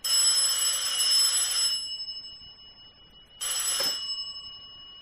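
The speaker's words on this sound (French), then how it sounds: "Le téléphone. J'y vais." An old telephone bell rings in a French radio drama, one long loud metallic ring that cuts off, then a second shorter ring after a pause.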